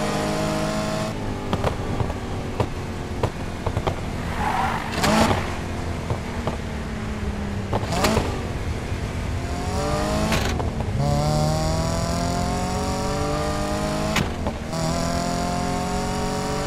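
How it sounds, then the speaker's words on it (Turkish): Gear changes from a car in the Need for Speed Payback video game: repeated rising engine revs, each cut off by an abrupt shift and pitch drop, about five in a row. The engine is loud and steady throughout, with no voices. "Vites attırırkenki çıkan sesler."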